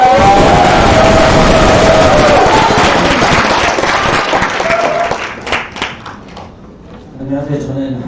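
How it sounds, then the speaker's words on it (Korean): Loud, dense applause from a crowd at a Korean National Assembly forum, a steady wash of clapping that fades and thins out over the last few seconds. "박수!"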